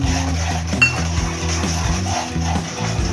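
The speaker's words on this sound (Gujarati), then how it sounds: "હવે આપણે એને હલાવી દઈશું." Tomato gravy stirred in a metal cooking pan with a spoon, steady scraping and clinking of utensil against the pan throughout, close and moderately loud.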